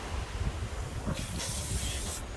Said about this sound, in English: I'm gonna try and see if I can just real quick spray these